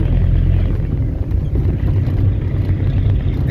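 A Volkswagen Golf 3 TD diesel engine with its turbo removed revs with a rough, rattling, tractor-like low rumble, loud and close, pulsing steadily without any voices.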